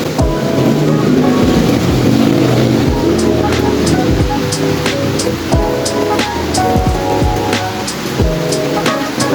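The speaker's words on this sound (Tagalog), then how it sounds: "Sobrang lamig ngayon kasi ang lakas ng hangin, tsaka ang lakas ng ulan." Strong wind and heavy rain during a storm in Tagaytay, a loud continuous rushing roar with gusts and sharp intermittent clatters and knocks, with no voices over it.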